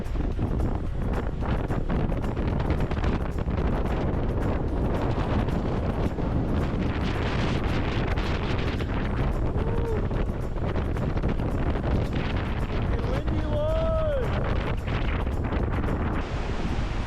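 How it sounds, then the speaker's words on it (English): Strong wind roars and buffets the microphone without pause on Humboldt Peak, a harsh, blustery rumble with faint squeaks now and then. "super windy."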